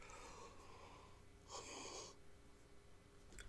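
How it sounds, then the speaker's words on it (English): One person gives a single drawn-out, breathy yawn, a brief hissing rush of air over quiet background. "There's your yawn for the night."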